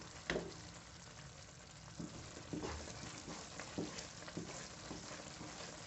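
Thickening chana dal halwa roasts in a pan over medium heat, a soft, low sizzle under scattered quiet scraping taps of a stirring spoon.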